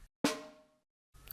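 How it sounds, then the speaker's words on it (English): A single snappy snare hit, the RD Snare 10 drum sample, cracks sharply and rings out with a short decaying tail, followed by a brief trailing sound at the end. "the RD snare number 10,"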